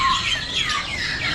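Parrots at a crowded Indonesian bird market, with a brief burst of shrill, overlapping chirps and squawks, fairly loud and near.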